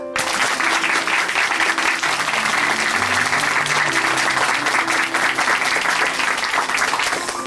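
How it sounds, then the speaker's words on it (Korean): A church congregation at Chuncheon Hanmaum Church gives sustained, dense applause during a testimony programme, loud and continuous for about seven seconds with no speech over it. "박수 보내드릴게요"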